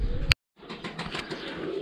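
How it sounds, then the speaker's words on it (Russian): Pigeons coo softly amid rustling and a sharp bump, followed by a brief silence and then continued low cooing and fluttering. "Вот пока голуби выходят"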